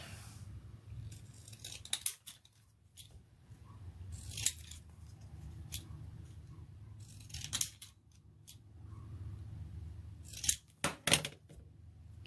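Scissors cut paper close by in several crisp bursts of snipping, separated by quiet pauses, with a quick flurry of cuts near the end.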